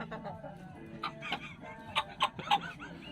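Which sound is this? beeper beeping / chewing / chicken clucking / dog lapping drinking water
chicken clucking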